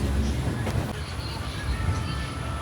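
Passenger train rolls into Bardhaman Junction in the rain, a continuous low rumble of wheels and carriage heard from onboard, with faint rhythmic clatter and light background noise throughout.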